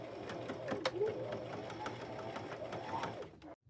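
A sewing machine top stitches around the upper edge of a bulky denim purse made from thrifted jeans, whirring steadily and close for several seconds with a few sharp clicks, then stopping abruptly.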